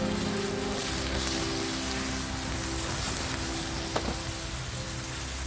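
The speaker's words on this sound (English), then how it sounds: "Very carefully add in your whiskey next. Then light the thing on fire." Whiskey flares as it is lit in a pan of ribeye steak and mushrooms, giving a steady, close rain-like sizzle and crackle that holds at one level throughout, with a single sharper pop near the end.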